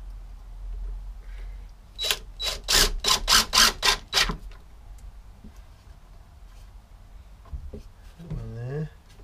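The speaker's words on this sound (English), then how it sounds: "Bung a screw in there." A power drill drives a screw into a wooden folding saw horse in a quick run of about eight loud, rhythmic bursts, followed by a quieter stretch and a short whirring sweep at the end.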